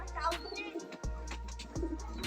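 High-flying pigeons in a loft, one of them an aggressive bird from a breeding pair, give low cooing calls close by, with people talking over them.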